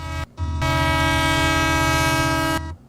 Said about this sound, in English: these red flags equal the train wreck sound.